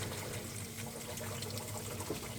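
Water trickling and splashing as it refills the sump of a Red Sea Reefer 250 reef aquarium, a steady close gurgling wash with a low pump hum underneath and no voices.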